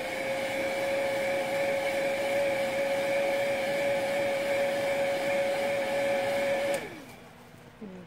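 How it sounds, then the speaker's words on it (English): A heat gun softening a vinyl reborn doll part blows with a steady, loud, whining hum for about seven seconds, then cuts off and spins down into near quiet. "I guess I just used the heating gun to make it a little more flexible."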